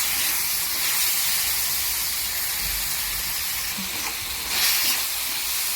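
Washed dried shrimp (sukat) sauté in a pan with red chili powder and black masala, giving a steady, close sizzling hiss with a brief louder spurt near the end.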